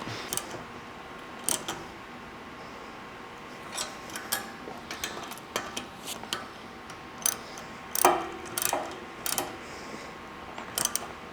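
Bolts are tightened on a Sherpa Crestone roof rack foot on a 4Runner, a tool giving quick clicking ratchet bursts and small metallic taps at irregular intervals, close and fairly quiet.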